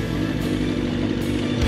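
Engine of a 23-year-old Kawasaki ZX-9R sport motorcycle under way, a steady loud low drone with wind rush and no talk over it.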